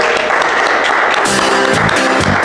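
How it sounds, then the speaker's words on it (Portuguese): Church congregation applauding during an Easter service, a dense wash of clapping filling the room with music swelling underneath partway through. "para ele uma linda salva de palmas"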